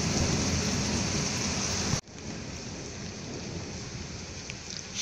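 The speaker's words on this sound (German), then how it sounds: "Schwere Gewitter in Marburg." A heavy thunderstorm in Marburg pours rain hard and constantly, with a loud burst of thunder in the first seconds cutting off abruptly, then steady rainfall continuing alone.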